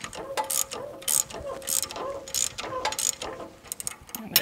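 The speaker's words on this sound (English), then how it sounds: "we're gonna take a little adjustable wrench just to hold the tip, and we're gonna torque everything down." A ratchet wrench tightens the shock assembly nuts on a Lexus GX470, giving a steady run of close, crisp clicking strokes in an even rhythm with no talking.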